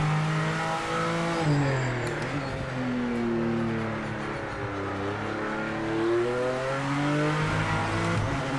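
A BMW GT3 race car engine in a motor racing video game roars steadily and loud, rising in pitch as it revs, dropping at each gear shift, then climbing again.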